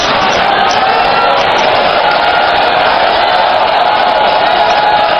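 Audience at a sermon clapping and cheering in a dense, continuous roar of claps and crowd noise, loud and steady throughout with no pause.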